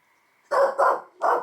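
Three sharp dog barks in quick succession, loud and close, the last after a brief pause, with a faint tone beneath.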